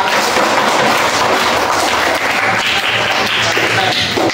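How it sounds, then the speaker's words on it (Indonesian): Classmates applauding a student in a grade 3 classroom, loud dense clapping filling the whole stretch without a break. "tepuk tangan untuk Mbak Elva"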